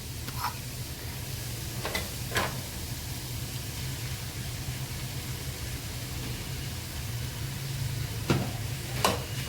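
Boiled potato being stirred with spices in a pan while cooking masala pav: faint steady sizzle under a low hum, with a handful of brief spoon scrapes and taps on the pan scattered across the stretch.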